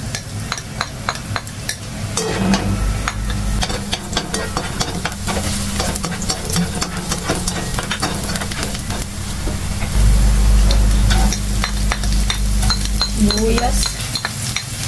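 Garlic sautéing in oil in a pan, a steady loud sizzle with frequent clacks and scrapes of a utensil against the pan, busy and close throughout.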